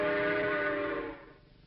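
A voice imitates a steam train whistle for a 1950s toy train advertisement: one sustained, loud, breathy hooting tone that holds steadily and then fades out, alone without talk.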